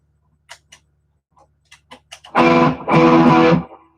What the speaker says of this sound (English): So this is out of the AC30's